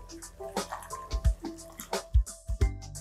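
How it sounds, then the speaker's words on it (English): Boiling water from a kettle splashes into a pan in short, gurgling pours and drips, with irregular wet spurts close by. "we're just going to fill up our pan using boiling water from the kettle"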